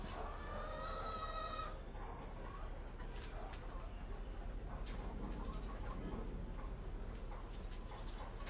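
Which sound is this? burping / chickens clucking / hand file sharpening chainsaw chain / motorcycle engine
chickens clucking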